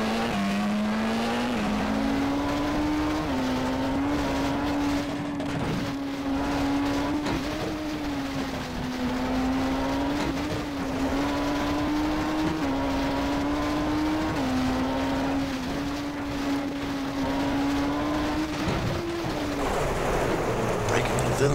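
Rally car at Coffs Harbour Rally, its engine droning steadily near with pitch dips as it brakes and shifts, then rising into a rougher roar at the end, under a commentator's voice.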